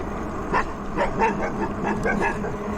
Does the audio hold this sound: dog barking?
yes